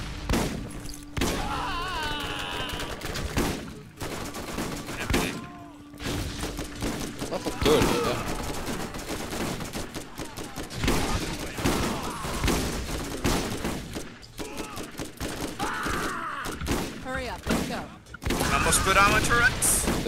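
Chaotic firefight in Borderlands, with shotgun blasts and other gunfire, thuds and crashes coming in irregular clusters, while players talk over the shooting almost throughout.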